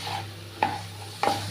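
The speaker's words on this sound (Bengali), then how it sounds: "এবার একটু নেড়ে চেড়ে নিচ্ছি।" Banana flower curry being stirred in a pan, two distinct scraping strokes of the spoon over a low sizzle that carries on underneath.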